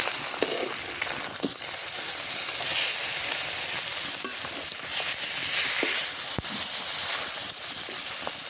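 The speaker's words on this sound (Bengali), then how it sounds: "এখন হচ্ছে মরিচ পেঁয়াজ তেলানি" Chili and onion frying in hot oil, a steady bright sizzle and hiss that runs throughout with occasional small pops and stirring clicks.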